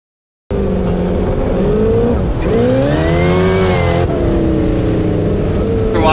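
A powerful car engine revs hard and accelerates, loud and close, its pitch sweeping up and dipping between gear changes in one continuous roar lasting about six seconds after a brief silent start; no one talks.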